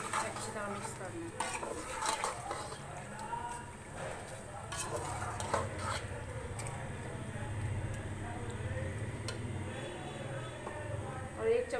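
A spoon stirs chicken korma in a pot after salt and bay leaves go in, with repeated scraping and clinks of metal against the pot over a low simmer while someone talks throughout.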